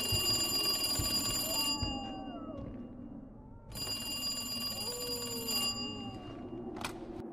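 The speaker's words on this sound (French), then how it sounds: "Le téléphone sonne." A telephone rings in an office within a Resident Evil 2 audio drama: two loud bursts of electronic ringing separated by a pause, over low wind and distant howling.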